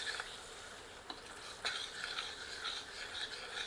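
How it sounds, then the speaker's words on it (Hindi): Onion frying with ginger-garlic paste in a pan for Kadaknath black chicken masala, a soft continuous sizzle broken by a few spoon scrapes and stirs, quiet and close. "अब प्याज को मध्यम आंच पर भूनते रहते हैं"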